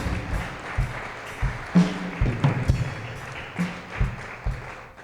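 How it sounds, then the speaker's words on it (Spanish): A church congregation claps in loose rhythmic bursts, with some thumps and taps mixed in, moderate and fairly close. "Vamos a dar un fuerte aplauso al Señor."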